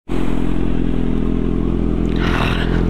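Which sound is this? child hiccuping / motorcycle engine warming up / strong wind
motorcycle engine warming up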